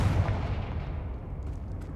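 Confringo, the blasting spell, explodes in the video game Hogwarts Legacy, a loud, deep boom that rumbles and slowly decays over two seconds, with a faint crackle near the end.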